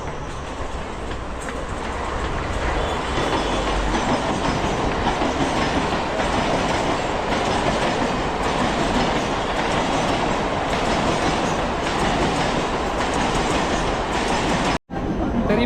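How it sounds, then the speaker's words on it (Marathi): A Mumbai local train bound for Chhatrapati Shivaji Maharaj Terminus rumbles past close by, loud and continuous with clickety-clack wheel noise, cutting out abruptly near the end. "पाठीमागे जी ट्रेन आली ही जाते CSTला, म्हणजे छत्रपती शिवाजी महाराज टर्मिनसला."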